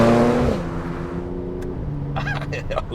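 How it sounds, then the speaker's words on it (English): A 2013 Audi S4 in sport mode roars, then its engine note drops as revs fall, with a brief sharp exhaust pop and crackle; a voice briefly sounds near the end. "And it gives a little fart noise from the exhaust."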